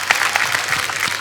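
A studio audience at a live comedy show claps steadily, dense and close, with no voices over it.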